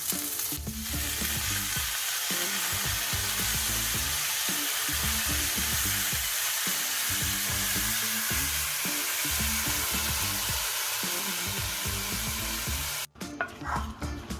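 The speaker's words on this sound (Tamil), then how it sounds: "புதினா போட்டு ரொம்ப நேரம் வதக்கக்கூடாது. ஒரு வதக்கு வதக்கி ஆஃப் பண்ணிக்கலாம்." Mint leaves with asafoetida sauté in a hot pan, a continuous loud sizzle broken by rhythmic scraping and stirring strokes, ending with a brief clatter.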